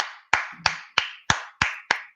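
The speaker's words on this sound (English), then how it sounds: "Big round of applause for the hilarious Ryan Stannard" A single person clapping at an open mic comedy show, about seven sharp, evenly spaced claps close by, alone in a quiet room with a brief low murmur near the start.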